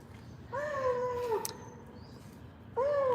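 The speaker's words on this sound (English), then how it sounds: "you're hearing our dog friend across the way who just won't shush up" A dog across the street gives two long, drawn-out whining cries with a pause between, moderately loud over faint street background.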